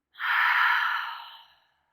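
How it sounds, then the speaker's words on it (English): A single slow breath exhaled through the mouth during a yoga workout, soft and close, swelling quickly and then fading over about a second and a half, with no talking. "Exhale through the mouth"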